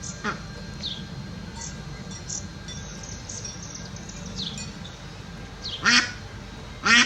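Ducks on a small farm give a few sharp, close quacks, with two loud bursts near the end over a quiet background of faint insect chirps, and a voice speaks softly between them.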